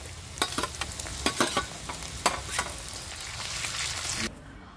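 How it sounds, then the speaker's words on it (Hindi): Cumin, dried red chillies, chopped onion and finely cut ginger fry in a pan, with a soft steady sizzle and a run of sharp scraping stirs that stop abruptly near the end. "अब इसे थोड़ा सा भून लेते हैं"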